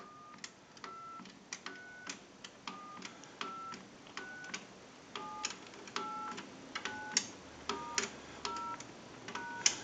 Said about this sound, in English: We're going to dial our numbers.